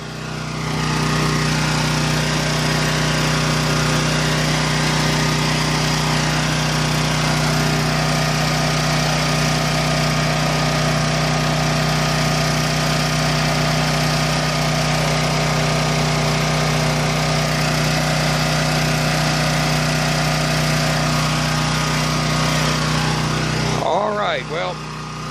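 A Champion dual fuel generator runs on gasoline with a heater as its full load, producing a loud, constant close-up engine drone with a strong steady hum that holds unchanged for over twenty seconds before cutting off abruptly near the end.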